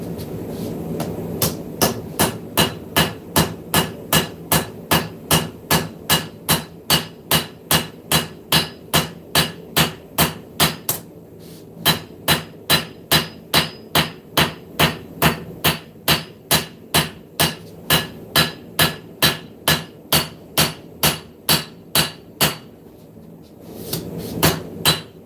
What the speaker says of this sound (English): Watch what happens whenever I start hammering this.